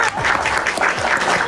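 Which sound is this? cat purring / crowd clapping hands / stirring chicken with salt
crowd clapping hands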